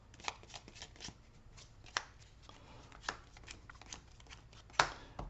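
Vanguard trading cards are shuffled by hand, giving quiet, close riffling and flicking bursts with sharper slaps at irregular intervals, no voices.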